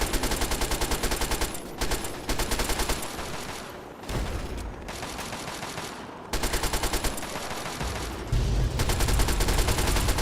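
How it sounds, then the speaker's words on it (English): Grenade explosions hitting the player in Fallout 3, loud dense bursts of blasts and rapid gunfire in several rattling waves separated by brief lulls, ending in a heavier rumbling stretch. "I'm getting hit with, like, grenades or something"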